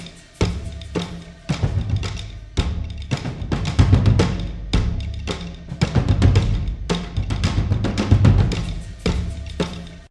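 High percussion layer of a game music track: dense, rapid, crisp hits in a busy rhythmic pattern with bright attacks, layered over soft low tones and played steadily throughout.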